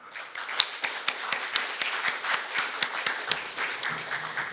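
A forum audience at a business digital-transformation event claps after the opening address, a thin scatter of individual hand claps rather than a full roar, steady for several seconds and fairly close.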